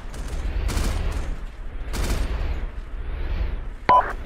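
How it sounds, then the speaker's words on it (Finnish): Gunfire in the military shooter game Arma, a steady background fusillade of distant shots and rumbling booms across the whole stretch, ending in one loud, close sharp crack. "koko ajan tuon osa nelosen ja vitosen suuntaan ammutaan"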